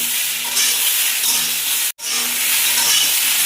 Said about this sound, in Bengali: এবারে কেটে রাখা ধুয়ে পরিষ্কার করে রাখা ঝিঙেটাও দিয়ে দিলাম, দিয়ে আবার ভালো করে নাড়াবো। মানে ভেজে নেবো ভালো করে।